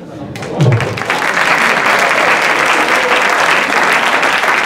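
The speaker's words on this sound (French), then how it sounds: "On les applaudit aussi." Audience at an award evening for an exploration film festival breaks into sustained, even applause that fills the room, with a brief voice heard at the start.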